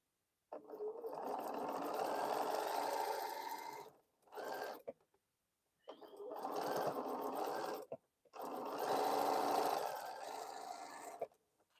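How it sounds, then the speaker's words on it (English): Sewing machine stitching quilt pieces together, running in three long bursts with short pauses between them, steady and fairly close with no talking over it. "we're sewing the next piece together here"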